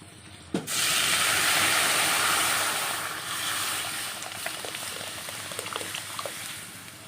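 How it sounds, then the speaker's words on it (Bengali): Onion and dried red chilli hit hot oil for tempering boiled dal, setting off a sudden loud hiss that settles into a steady sizzle with scattered pops. "ডালটা এখন ফোড়ন দিচ্ছি আমি পেঁয়াজ আর শুকনো লঙ্কা দিয়ে"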